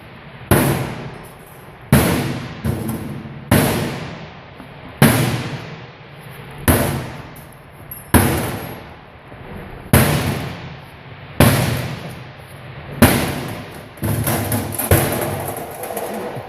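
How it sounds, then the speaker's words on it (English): A non-working washing machine is smashed with heavy, repeated blows, about eleven sharp crashing impacts at a steady pace, each ringing briefly before the next, loud and close, with no talking. "we got ourselves a destroyer order on a non-working wash machine"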